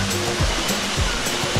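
Water pours steadily over Binayoyo Falls in Antipolo, Rizal, a loud, close, continuous rush with no voices.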